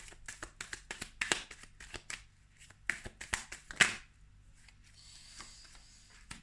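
Tarot cards shuffled by hand close up, a quick run of crisp riffling snaps and flicks, then quiet handling.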